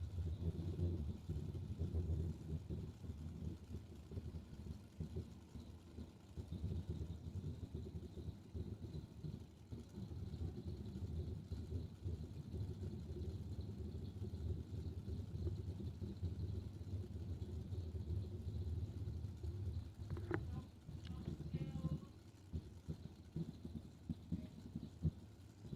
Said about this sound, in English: Blower motor definitely sounds healthy.